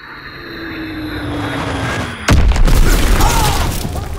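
A Fritz X guided bomb in Call of Duty: WWII falls with a rising drone beneath a steady aircraft roar, then strikes in one sudden loud boom that rolls off into a long rumbling decay.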